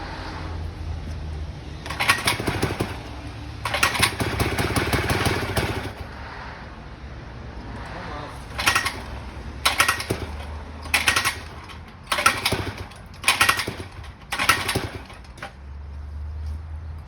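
A 3.5 hp outboard motor in need of a carburetor clean is pull-started again and again, with short bursts of rattling and cranking separated by quiet pauses and no steady running.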